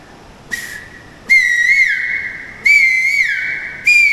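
Three loud whistled calls, each a rising then wavering note, imitate a male koel, separated by short pauses, close and clear.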